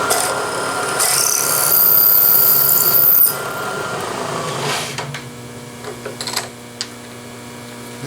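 A 7/16-inch flat bottom drill squares the floor of a half-inch-deep hole, giving a loud, steady cutting whir for about three seconds before it winds down, followed by quieter shop hum and a few light clicks.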